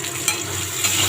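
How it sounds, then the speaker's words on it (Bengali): Potatoes for a fish curry frying and being stirred in a pan, giving a steady close sizzle with a couple of small stirring scrapes. "মাছের আলুটা একটু লাল লাল করে ভাজতে হবে।"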